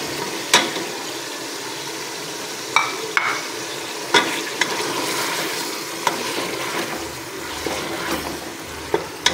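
Meat for haleem stirred and fried in a pot with a spoon, a continuous close sizzle broken by sharp scraping clinks of the spoon against the metal, with no talking.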